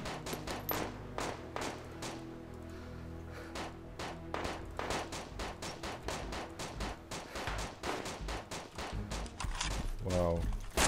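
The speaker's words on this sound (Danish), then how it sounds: "Det bliver skudt helt vildt." Dense gunfire fills a DayZ match, with rapid overlapping shots cracking almost nonstop, some near and loud, others fainter, forming a continuous firefight.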